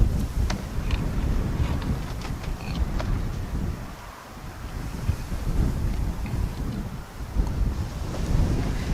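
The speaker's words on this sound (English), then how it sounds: "the crazy wind's just blowing them all out of place" Strong gusty wind buffets a microphone at a house construction site for a small 16x40 home. The roar is loud and continuous and rises and falls in surges, with no talk.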